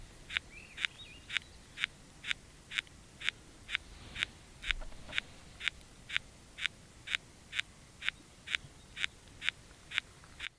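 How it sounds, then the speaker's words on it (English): Bark or sawyer beetles chew inside a dead jack pine lying nearby, producing regular sharp crunching clicks about twice per second, faint against a quiet outdoor background with a brief soft bird note. "That's a chomping noise. That is bark beetle"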